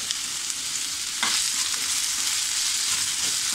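A finely chopped tomato sautéing in a pan for a cauliflower, potato and pea curry gives a steady, dense sizzle throughout, with a brief stirring scrape partway through and no talking.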